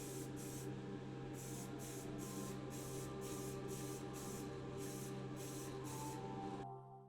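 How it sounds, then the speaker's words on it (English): An aerosol can sprays AK Interactive gloss varnish clear coat onto a Siku Mercedes 230SL diecast model car, a continuous close hiss broken by regular pulsing bursts and a steady low hum underneath. "The Siku Mercedes is clear coated with AK Interactive Gloss Varnish."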